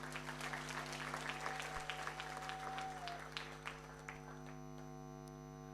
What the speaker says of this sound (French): Applaudissez pour eux, s'il vous plaît.